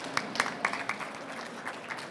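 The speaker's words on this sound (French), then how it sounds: "On peut t'applaudir à nouveau." Brief applause from a conference audience at a health and AI event, scattered claps with a few louder hits near the start, fairly quiet and thinning out.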